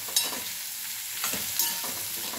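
Fried chilies mixed with flour are stirred in a pan, a steady low sizzle with a few scraping strokes and light clicks, close and without talk.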